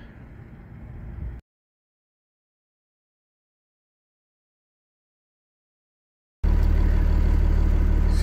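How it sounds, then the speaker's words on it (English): A diesel IC Bus B82 idles through an exhaust regeneration, its steady low engine rumble running briefly, dropping out, then returning louder and closer. "See, this bus is doing a regen."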